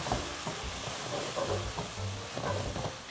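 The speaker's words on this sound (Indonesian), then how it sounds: "Nah, ini tempenya kita aduk-aduk" Fried tempeh being stirred in a pan with spice paste, a spatula scraping and tossing in repeated strokes over a steady close sizzle while cooking Betawi nasi uduk.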